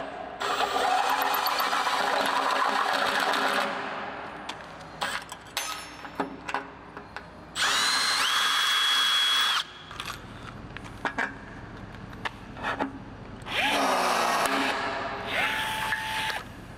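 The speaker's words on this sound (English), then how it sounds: "I can mark and drill the third hole while it's in place and put the rivet in" A power drill bores a rivet hole through metal in a few loud, steady bursts of several seconds each, with quieter clicks and handling noises between them.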